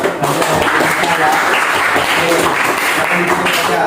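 Students in a chemistry class give a round of applause, a lively burst of many hands clapping at close range, with voices mixed in beneath it.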